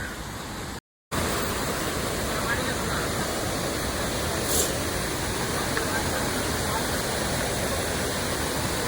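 A steady, roaring rush of water falling at Napne Waterfall in Sindhudurg fills the scene, with one brief silent gap near the start before the heavy, constant wash returns.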